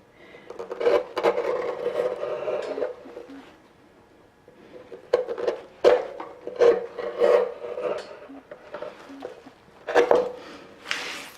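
A hand tool shaves and rasps wood from an elm bowl in repeated bursts of scraping strokes, close and crisp, with a short pause partway through and birds cooing faintly in the background.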